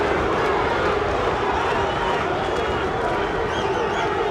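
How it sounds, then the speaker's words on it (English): A boxing crowd at the Tommy Morrison vs Ray Mercer fight roars and yells without a break, a dense loud wall of many voices that fills the whole moment. "Crowd yelling Duke."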